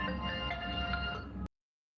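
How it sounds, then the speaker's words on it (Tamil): An incoming phone call ringtone sounds as a steady, tonal electronic melody at moderate volume, playing for about a second and a half before cutting off abruptly into silence. "ஒரு ஃபோன் கால் வருது."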